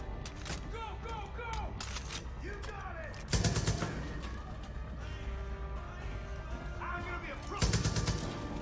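Gunfire in the video game Far Cry 5, two loud broadband bursts standing out over a busy game soundscape with background chatter and ambient noise.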